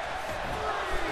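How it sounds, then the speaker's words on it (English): A broadband crowd roar from the WWE 2K wrestling video game fills the short stretch steadily, loud and continuous, with the arena cheering during a match. "The crowd love it. The crowd are loving it."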